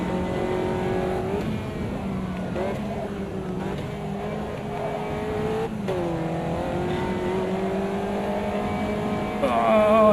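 Race cars in the Automobilista 2 sim racing game drag racing down a straight, a steady engine drone with rising pitch as the cars shift through gears, heard continuously with a faint voice underneath.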